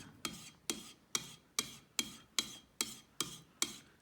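A Harbor Freight chisel rubs back and forth on a fine sharpening stone in about nine regular strokes, each starting with a crisp scrape that fades, close and fairly quiet, with no voices.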